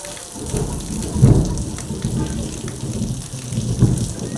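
Steady rain falls outdoors with two low, rumbling thunder claps a few seconds apart, moderately close, over the continuous wash of downpour.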